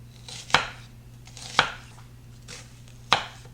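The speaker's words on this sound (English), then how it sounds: "I'm going to take my knife and go 3/4 of the way through the onion in very thin" A knife cuts down through an onion on a board, making three sharp, distinct thunks about a second apart, with soft slicing sounds between them and no talking.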